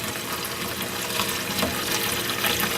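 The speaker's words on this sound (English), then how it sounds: "Fill it up just a hair above so that the whole thing is covered in the vinegar" Vinegar poured into a container holding an antique Plumb hatchet head, a steady close rush of liquid splashing and filling throughout, with no talk.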